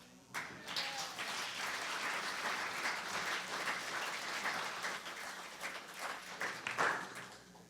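A church congregation applauds during a service: steady, dense clapping from many hands that swells and holds for several seconds before tapering off.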